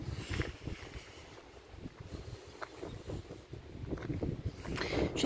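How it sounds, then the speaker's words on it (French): Wind buffeting a microphone outdoors near a cemetery, irregular gusty thumps and rumbles that swell and fade throughout, loudest toward the end, with no other sounds standing out. "Si je mets ma main là, peut-être vous sentirez moins le vent. Du moins, vous l'entendrez moins."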